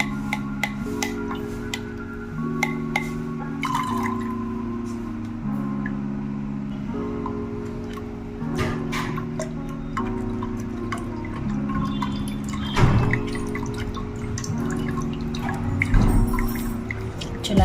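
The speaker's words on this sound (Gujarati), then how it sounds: "ચાલો, આ પાણીને આપણે ગાળી લઈએ અને આનો બધો પલ્પ આપણે કાઢી લઈએ." Soaked water is strained off and the pulp squeezed out by hand for churmur chaat, giving steady wet drips and trickles through a strainer with small clinks and taps, close and moderately loud, with no one talking.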